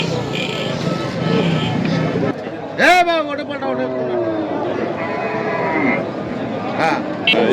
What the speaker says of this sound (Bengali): এখানে যে ষাঁড় গরুগুলো রয়েছে ক্রস ফ্রিজিয়ান